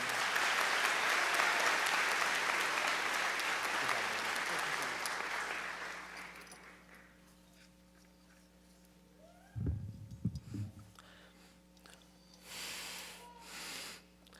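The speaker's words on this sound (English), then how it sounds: "Let's give it up for Alex, everyone." Loud applause from a crowd at a 2024 high school graduation ceremony, sustained for about six seconds before fading, then a few isolated claps and shuffling noises, with a brief swell of clapping near the end.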